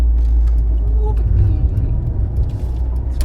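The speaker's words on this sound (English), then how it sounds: "Some Renault cornering for you" A 1997 Renault Twingo 1.2 takes a corner, heard from inside as a steady low engine and road rumble that swells slightly mid-turn.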